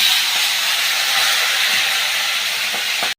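Rohu fish frying in hot oil, giving off a loud, steady, close sizzling hiss that runs unbroken and then stops abruptly at the end.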